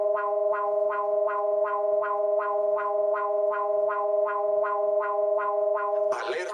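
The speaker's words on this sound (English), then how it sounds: "Alerta sísmica." The Mexican seismic alert siren plays a steady electronic tone pulsing in an even, repeating rhythm of about two beats per second. It is clear and alone, and a short burst of noise cuts it off at the end.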